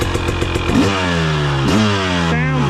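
A 2023 Husqvarna TX300 two-stroke dirt bike engine runs close by, rapid popping idle rising into sweeping revs twice, each throttle blip climbing then settling back, with no talking.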